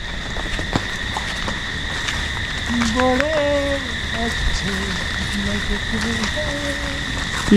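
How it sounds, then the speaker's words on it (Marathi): Light monsoon rain falls outdoors at a riverside bungalow near the Indrayani river in Malavli, Lonavala, a steady soft hiss running throughout, with faint voices and a few brief tonal calls over it. "आम्ही निघालो आणि बारीक बारीक पाऊस परत सुरू झाला हो"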